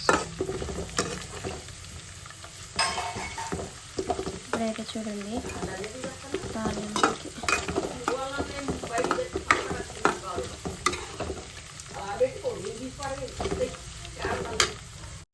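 Continuous crackling sizzle of spices frying in hot oil, tempering a red chilli chutney, with stirring clatter, a voice speaking briefly over it.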